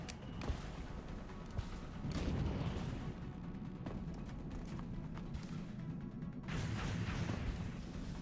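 Weapon fire in the turn-based strategy game XCOM: Enemy Within, with several sharp shot transients and booming blasts over a dense, continuous battle soundscape, loud and close, with no talk.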